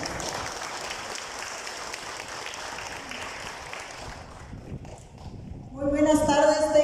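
A crowd applauds at a Mexican political event welcoming a public accountant, steady moderate clapping that fades out before a louder voice begins at the end.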